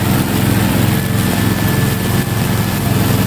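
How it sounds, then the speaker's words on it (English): A high-horsepower remote-control lawnmower engine drones loudly and steadily at close range, a continuous rough buzzing roar with no pauses. "It is equipped with a high horsepower engine, which makes a roaring sound when running"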